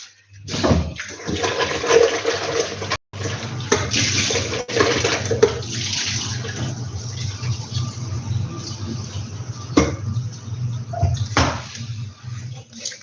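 Water runs from a tap while food is rinsed for cooking, a loud, continuous gushing with a few short breaks and clattering handling noises.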